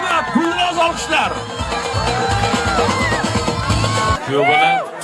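Crowd at a wedding in Uzbekistan cheering, whooping and shouting loudly and continuously at close range, with voices calling out through the noise.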